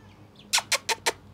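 Four quick clucks from a chicken, close and evenly spaced, with a quiet background and no talking.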